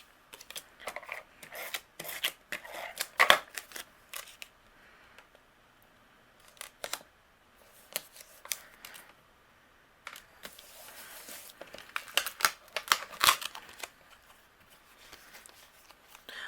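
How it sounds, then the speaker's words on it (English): A tape runner presses adhesive onto nesting die-cut paper pieces on a card, giving close bursts of clicky, rasping rubs that come in clusters with quiet gaps between them. "I'm going to go ahead and use my tape runner"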